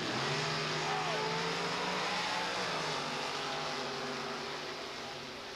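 Drag race cars launch and roar down the Raceway Park strip, a loud sustained engine howl that climbs in pitch and slowly fades into the distance.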